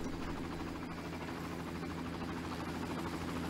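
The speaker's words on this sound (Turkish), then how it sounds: "Helikopter gibi bir şey geliyor." A helicopter approaching in the video game Far Cry, a steady low droning rotor and engine hum that stays even and fairly faint throughout, with no talk.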